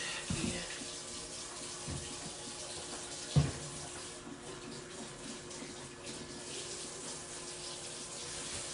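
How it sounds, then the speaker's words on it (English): Tap water running steadily into a sink while something is rinsed off and hands are washed during seafood boil preparation, close and continuous with a few thuds, no talk. "So, just rinsing this off. Let me wash my hands."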